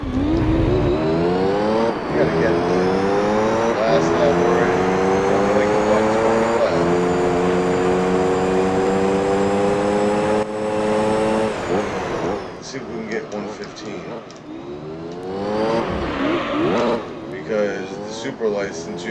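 A Formula One car in the racing video game Gran Turismo 3 drives on a street circuit, its engine wailing loud and steady as it shifts through gears, with a person talking over it.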